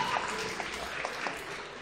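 Audience applause at a cosplay contest, a steady dense wash of clapping from a crowd, sustained and fairly even throughout with no voices standing out.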